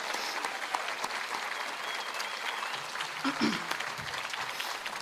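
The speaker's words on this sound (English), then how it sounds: "How about another round of applause for all of this year's amazing, amazing award winners" Steady applause from an audience at an award celebration, continuous clapping held at an even level for the whole stretch, a few voices faintly mixed in near the middle.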